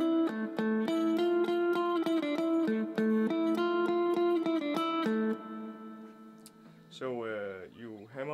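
A violin concerto passage arranged for two guitars: quick picked notes with a steady, pulsing rhythm, ending on a held note, then a voice briefly talking at the end.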